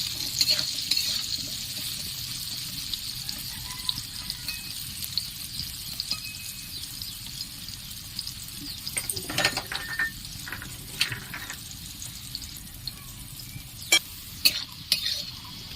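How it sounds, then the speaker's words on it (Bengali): Soft, steady sizzling of carrots frying in oil, with occasional scrapes and clinks of a utensil stirring the pan. "গাজরগুলো বেশ ভালোভাবে ভেজে নেব।"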